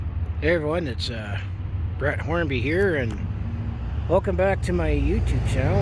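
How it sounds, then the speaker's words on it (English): Street traffic on 17th Avenue Southeast (International Avenue), a steady low rumble of passing vehicles under someone talking close up for the whole stretch. "You can hear the traffic right behind me."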